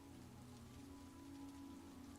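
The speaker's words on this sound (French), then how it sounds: "la pluie commence à s'accentuer." Steady rain patters evenly on a surface, a soft continuous hiss with a low rumble underneath and no voices.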